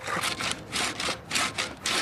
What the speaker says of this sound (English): the sand is now steadily and slowly but surely cutting its way right through the stone